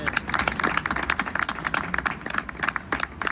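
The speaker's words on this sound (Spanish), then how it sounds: "Podéis aplaudir" An audience claps at a presentation at the FITUR 2026 tourism fair, dense and steady applause from many hands lasting throughout at a moderate distance.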